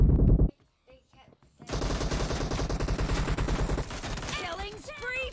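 Rapid automatic gunfire in PUBG Mobile gun game mode: a short burst, a brief lull, then sustained loud rattling shots with chirpy game effects near the end, no talk.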